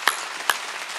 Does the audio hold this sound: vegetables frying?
no